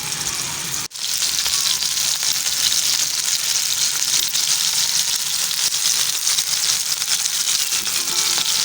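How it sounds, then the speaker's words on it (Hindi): Chicken mince for shawarma fries in a pan, giving a loud, continuous crackling sizzle after a brief break near the start, with no voices. "हम लोग कीमा अच्छे से भून के और बना रहे हैं"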